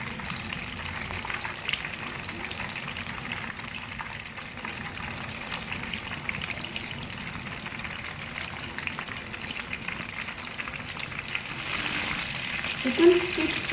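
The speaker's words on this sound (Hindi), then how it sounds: "चिकन स्टिक्स को हम मीडियम फ्लेम पर फ्राई कर रहे हैं।" Chicken sticks deep frying in oil over a medium flame, a steady, dense sizzle and bubbling that runs unbroken for the whole stretch, close and fairly loud, with a small clink near the end.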